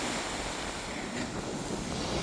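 Wind-driven waves wash onto the Mediterranean shore of the Costa Blanca, a continuous broadband roar of surf mixed with gusting wind buffeting the microphone, close and steady with no voices.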